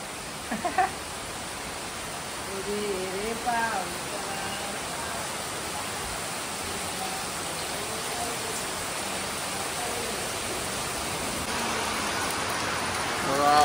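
Heavy rain pours steadily on a Konkan village, a dense, even hiss that thickens toward the end, with a few brief voices over it early on.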